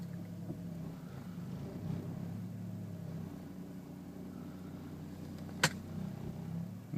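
A car with a 2.25ci engine idling roughly, a steady low rumble with slight unevenness, close by, with a brief click near the end and no talking.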